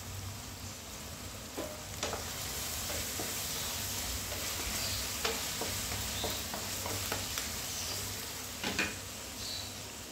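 Masala with softened tomatoes and a little fresh coriander fries in a pan for misal pav, giving a steady low sizzle broken by occasional scraping stir strokes, close and without talk.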